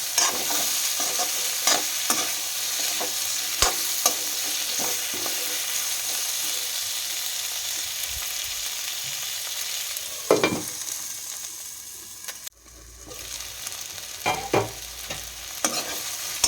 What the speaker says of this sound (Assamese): যেতিয়ালৈকে বিলাহীখিনি গলি নাযায় তেতিয়ালৈকে এইখিনি ভাজি থাকিম।